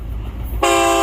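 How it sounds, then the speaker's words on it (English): An FEC freight train locomotive sounds its car-style horn at South Daytona, a sudden loud, steady toot that cuts in halfway through and holds to the end over low rumbling background. "I can hear the car style horns on it"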